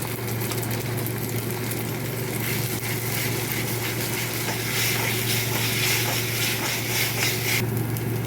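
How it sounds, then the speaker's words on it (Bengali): Sliced onions fry in oil in a pan for a mutton curry, giving a steady, close, continuous sizzle with a low background hum, no voices. "এই যে মাটনের জন্য পেঁয়াজ ভাজা হচ্ছে"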